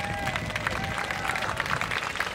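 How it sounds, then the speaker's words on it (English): Faint crowd applause and cheering for West Virginia marching bands at an evening Christmas tree lighting ceremony, a continuous patter of claps with some voices mixed in. "Let's have a round of applause for all the West Virginia marching bands joining us this evening"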